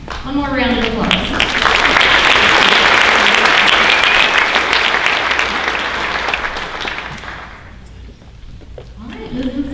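A speaker's voice gives way to a strong swell of audience applause at a high school honors night, holding for several seconds before fading out as talking resumes.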